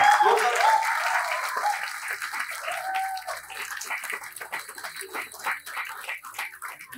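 An audience bursts into loud applause at a music launch event, the clapping strongest at the start and then continuing steadily at a slightly lower level for several seconds.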